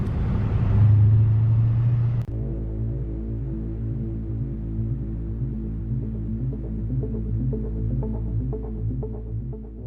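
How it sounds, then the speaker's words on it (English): A Porsche Panamera drives along with a steady low engine drone and rumble inside the car, louder at first and then settling into an even, throbbing hum. "I'm testing my Panamera's handling, and I come across this scene."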